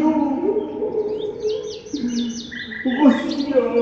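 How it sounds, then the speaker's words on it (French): A golden oriole's song in a stage performance: bright chirps and whistled, fluting phrases ring out over a low, steady tonal hum, loud and close. "Loriot."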